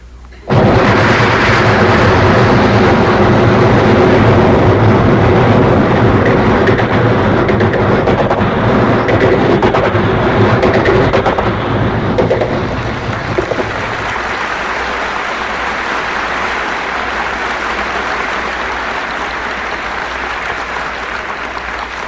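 A voice imitates a long speeding train with a loud, sustained rumbling roar and rushing rhythm that swells and then drops to a lower continuing rumble, performed on a 1963 comedy sound-effects record.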